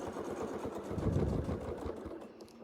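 A sewing machine stitches a continuous curvy quilt motif, its steady rapid mechanical whir running close and even without pause, no voices present.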